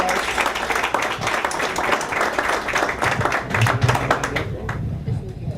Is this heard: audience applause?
yes